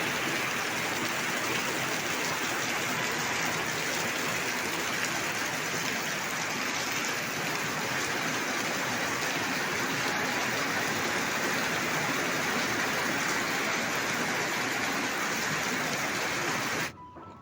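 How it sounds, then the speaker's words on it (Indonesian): Steady, even rain falls outdoors in a garden where orchids are grown, a continuous hiss without pauses that fades out abruptly at the very end. "Kalau kebetulan hujan, kita neduh dulu"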